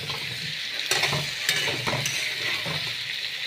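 Whole potatoes sautéed with spices in a pan for aloo dum, a steady sizzle of frying with a few scraping stirs of a spoon against the pan, close and alone.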